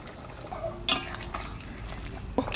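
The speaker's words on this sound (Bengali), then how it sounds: "আদা বাটা দিয়ে দেবো" Ginger paste going into a pan of fish curry with potatoes and being stirred, scraping and light clatter of a utensil against the pan over a low simmering sizzle, no voices.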